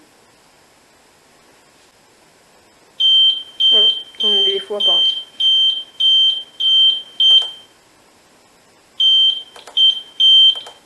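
A fire alarm control panel's sounder beeps loudly in a steady series of short, high-pitched tones, pausing briefly before resuming, with a person speaking over the first beeps.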